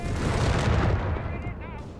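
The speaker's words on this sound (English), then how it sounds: "We got artillery there going off as well" Artillery fire in the strategy game Company of Heroes 3: a dense, continuous rumble of booms and blasts filling the battlefield, with overlapping impacts and background voice chatter throughout.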